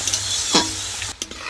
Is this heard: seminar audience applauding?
no